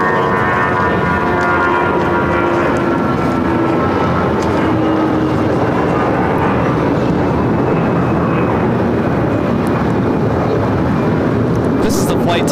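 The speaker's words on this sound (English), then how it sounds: "This is the flight taking off to Dallas-Fort Worth, flight 521 on the A319." An Airbus A319 on flight 521 to Dallas-Fort Worth takes off at LAX, its engines a loud, steady broadband roar filling the whole stretch with a faint rising tonal whine over it, while voices talk underneath.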